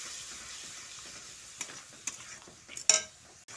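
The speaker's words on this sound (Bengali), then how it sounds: "এবার মশলাটা খুব ভালো করে কষিয়ে নিতে হবে" Spice paste being stir-fried in a pan, a low sizzle broken by a few sharp scrapes and stirring clatters toward the end.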